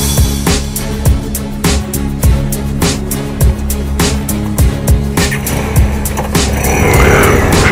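A 2017 Bajaj Dominar 400 motorcycle rides along with a steady, loud engine drone and repeated sharp thumps or bumps at a regular pace, the engine note rising toward the end.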